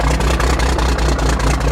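An old Kenworth truck idles just after start-up, a loud, close diesel rumble with a steady, regular chug pulsing about five times a second.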